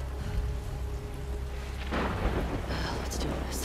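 Heavy rain pours steadily in a dark outdoor scene of the video game The Last of Us Part II, with a deep roll of thunder swelling from about halfway through and continuing over the constant downpour.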